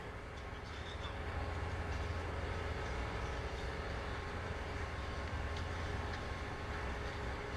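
Steady rumble and rattle of a train climbing up out of an underground section, continuous and fairly loud from start to finish, with no talk over it.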